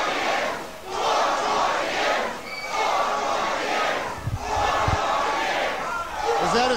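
A large crowd at an Obama rally chants in loud, rhythmic waves, several repeated swells of massed voices with short dips between them.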